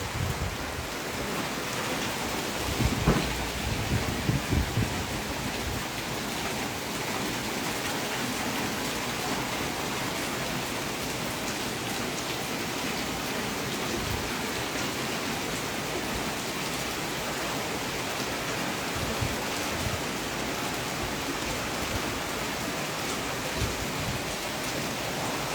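Heavy rain during Cyclone Remal pours down steadily outdoors beside a house and road, a dense, even roar of water with no clear thunder, lasting the whole stretch.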